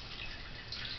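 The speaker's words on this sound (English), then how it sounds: "it's easy to pour in the beef broth" Beef broth is poured into a baking dish for chili beans and rice, a brief, faint, soft liquid stream and drip heard alone over a moment.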